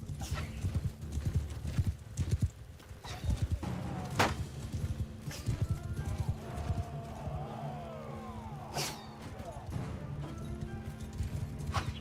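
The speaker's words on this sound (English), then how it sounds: "Horse archers will start to run around in circles" Horse archers gallop in the Mount & Blade 2 Bannerlord video game, with dense overlapping hoofbeats, occasional neighs and sharp impacts over a busy battle din.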